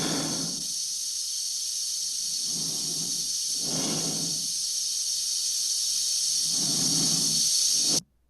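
Astronaut breathing inside a space helmet from the 1968 film 2001: A Space Odyssey: slow, rhythmic inhales and exhales over a constant airy hiss, close and intimate, cutting off abruptly to silence at the end.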